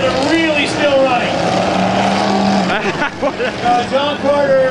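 Engines of demolition derby cars idle and rumble in a muddy arena, a steady loud drone with shifting pitch as they rev, under a loud announcer's voice.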